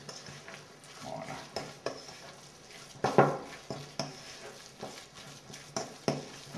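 Cake batter for a gâteau à la brousse is stirred in a bowl after a little flour is added, giving soft, irregular scraping and clinking strokes, fairly quiet and close, with no talk.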